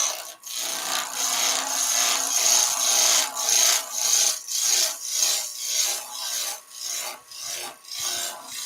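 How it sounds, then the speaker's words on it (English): A quarter-inch bowl gouge makes shear cuts on wood spinning on a lathe, giving a steady hissing scrape that swells and fades in a regular rhythm of repeated passes, close and fairly quiet, with no talk. "let's go with again a 1/4 inch bowl gouge in this case. Handle nice and low, and do that shear cut"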